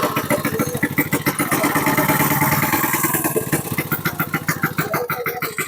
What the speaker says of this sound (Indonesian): Ini kan motor karburator 4 tak.